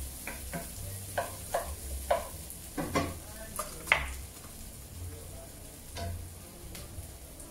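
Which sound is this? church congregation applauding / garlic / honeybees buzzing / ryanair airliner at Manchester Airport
garlic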